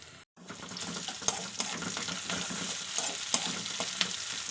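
Chopped onion, ginger and whole cumin sizzle steadily in a pan, a close continuous frying hiss broken by occasional spoon scrapes and clinks, with no talking.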